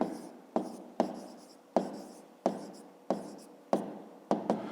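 A pen writes by hand on paper while a fifth-grade geometry exercise on angles is worked out, in quick scratchy strokes that repeat at a steady pace, each starting with a sharp tap and fading. It is close and quiet, with no talk.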